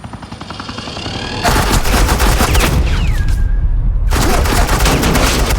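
Rapid automatic weapon fire bursts out in a Batman The Enemy Within game scene, loud and continuous, briefly dropping away before another sustained volley resumes.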